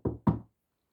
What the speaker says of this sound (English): He went to the door and knocked.